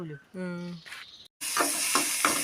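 Prawns frying in hot oil give a loud, steady sizzle that takes over after a short gap, preceded by a voice and a tonal sound.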